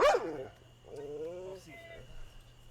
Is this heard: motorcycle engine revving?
no